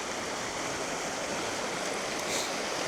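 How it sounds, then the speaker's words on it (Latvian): River rapids rush in a loud, continuous broadband roar of churning water close by, steady for the whole stretch with no voices. "Šīs krācītes lejā te"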